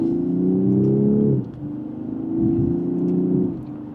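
A 2027 BMW 540i xDrive sedan accelerates hard in sport mode from second gear. The engine note climbs steadily, briefly dips at a gearshift, then rises again. It sounds smooth and moderately loud from inside the cabin.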